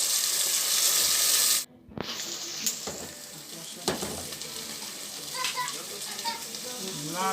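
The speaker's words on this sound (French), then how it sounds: "Je vais verser maintenant de l'haricot." Black beans poured into very hot oil with onions in a Haitian kitchen, bursting into a loud sizzle that settles into steady frying and stirring, close by, with a brief quiet moment as they go in.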